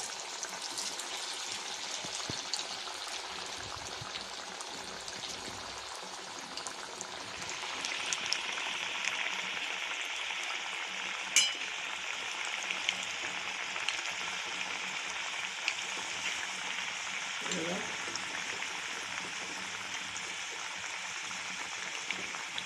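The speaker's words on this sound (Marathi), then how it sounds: "हे बघा, छान ब्राऊन कलरचे होईपर्यंत मीडियम फ्लेमवर तळून घ्या." Bread vadas deep-fry in hot oil over a medium flame, a soft, continuous bubbling hiss with fine crackles that stays fairly quiet and even throughout.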